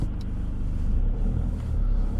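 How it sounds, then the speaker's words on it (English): Cars pass on a road near a driving test route, a steady low rumble of traffic heard from inside a waiting vehicle, loud and continuous without talking. "There's cars coming from both sides now"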